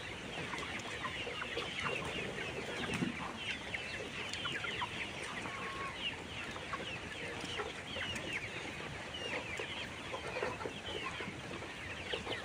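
Young pullets, 77 days old, cluck and chatter continuously on a poultry farm, many birds overlapping in a busy, even flock murmur at moderate distance with no voices.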